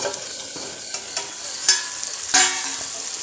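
Cauliflower frying in oil in a pan, a steady close sizzle with a few sharp scrapes and clinks of stirring scattered through.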